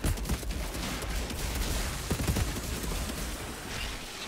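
Dense, continuous gunfire and explosive bursts in the Outriders looter shooter, solo at hardest difficulty in an endgame expedition, sustained loud volleys with scattered sharper shots and no talk.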